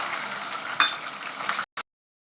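Mung beans fry in hot oil for a mixed-bean chavanu snack, making a steady, close sizzle with a brief spitting burst. The frying cuts off abruptly, and one short crackle follows before silence.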